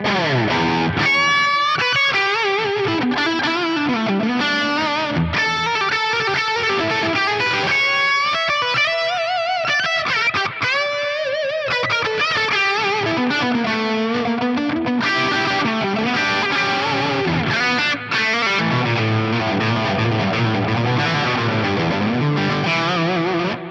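A distorted electric guitar through a Bogner Ecstasy-based amp model on an Axe-Fx plays an expressive lead line with bends and sustained notes, thick overdriven tone throughout, loud and continuous.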